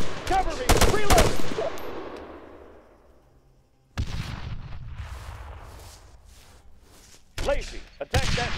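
Gunfire in ArmA 3 infantry combat, loud rapid bursts of rifle shots up close that echo and decay, with more volleys breaking out again later amid battlefield noise.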